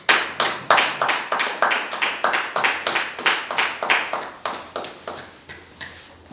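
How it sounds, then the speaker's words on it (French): A church congregation claps together in a steady, rhythmic beat of about twenty sharp claps, loud and close at first and then gradually fading in strength, with no voices over it. "Est-ce qu'on peut acclamer pour le Seigneur?"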